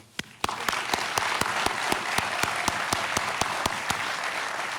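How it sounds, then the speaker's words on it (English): A crowd at a fire department graduation applauds steadily, with one close clapper striking loud, evenly spaced claps above the wash of hands. "Just a real quick round of applause for Chief Van Etten."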